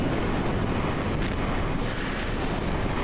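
Aircraft engine in Kerbal Space Program, on a craft sitting in the ocean. A loud, steady, broadband engine roar drones without a break for the whole stretch.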